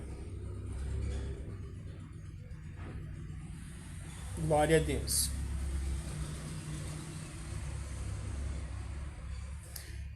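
A truck pulls away outside a church during a Sunday school class, a low steady engine rumble with a brief rising whine midway, heard faintly behind a person speaking.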